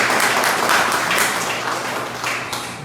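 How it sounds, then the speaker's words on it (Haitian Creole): Church congregation applauding during a Sunday service, a steady wash of many hands clapping that fades slightly toward the end, with no talk over it. "Allons applaudir Seigneur pour sa bénédiction."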